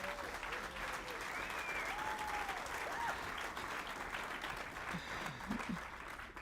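A church congregation applauding, a steady, dense wash of clapping filling the whole stretch, with a voice calling out briefly over it.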